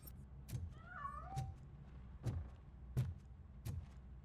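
A cat meows inside the Robocop Rogue City video game, several distinct meows rising and falling over about a second, set against repeated sharp thumps and a low background rumble.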